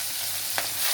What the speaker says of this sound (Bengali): চিকেনটা ভালো করে ভাজা হোক।